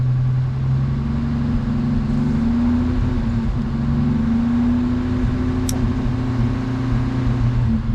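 A car engine running in overdrive gear hums loudly and steadily with a low drone, its pitch shifting slightly, plus one brief high tick partway through, and no speech.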